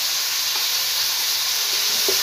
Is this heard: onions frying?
yes